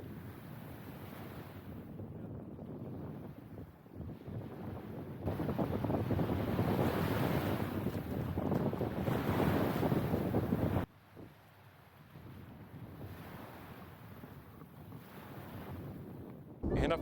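Red Sea surf at a Marsa Alam beach, waves washing and surging in soft repeated swells while gusty wind buffets the microphone, louder in the middle stretch.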